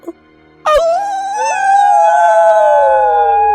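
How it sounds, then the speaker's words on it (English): Wild dogs in the video game Alluvium, an 80s-inspired adventure game, let out a long, loud howl that starts abruptly and holds steady, with layered wavering tones from more than one animal sustained to the end. "I hear her howl echoed by two wild dogs."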